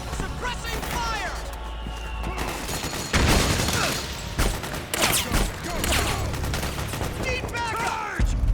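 Heavy suppressing gunfire in Metal Gear Solid 4: Guns of the Patriots, sustained automatic bursts with sharp loud cracks and impacts, overlapping with shouted battlefield voices and game effects throughout.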